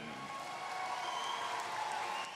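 A high school student body at the 2010 Illinois volleyball state championship finals, Marist vs. Wheaton Warrenville, cheers and applauds for the principal: steady, dense clapping and crowd noise that fills the whole moment without letup.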